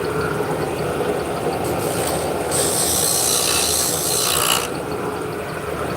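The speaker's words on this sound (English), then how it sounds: "you may hear a bunch of sawing and noises coming from that direction" Rasping sawing from a neighboring woodworking shop, distant and muffled, swells for a couple of seconds mid-clip over a steady background hum.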